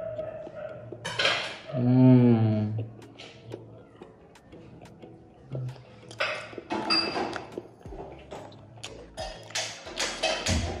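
A knife or cutter slicing through a homemade oven-baked pizza on a pan, giving scattered scraping taps and clinks near and moderately loud, with a brief vocal sound early and intermittent clatter of utensils.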